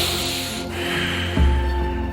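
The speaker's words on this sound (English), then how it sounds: "Inhale." A single audible inhalation during a gentle yoga stretch, a short sharp intake of air through the nose over a steady background hum with soft music.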